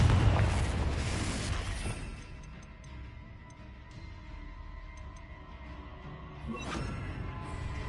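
A Confringo blasting spell explodes in Hogwarts Legacy, opening with a loud booming burst that fades into a low rumbling tail, followed by a swelling whoosh near the end.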